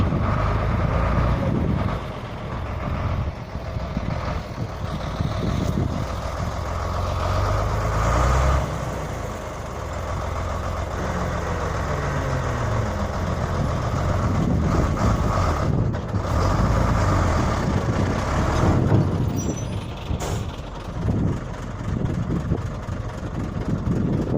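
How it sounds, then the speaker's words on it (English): Dump truck at a quarry being filled with soil for land reclamation, diesel engine rumbling steadily with wind buffeting the microphone and rough scraping as the load slides off. "This is another truck that has arrived. There it is, dumping the soil."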